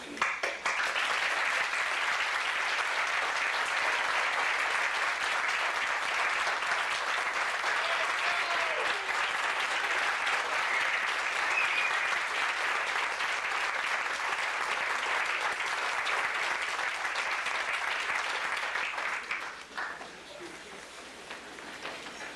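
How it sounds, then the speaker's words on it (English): Sustained, even applause fills the room at a 1993 retirement party and carries on for about twenty seconds before fading quickly at the end. "Can we please give a special round of applause for my mother?"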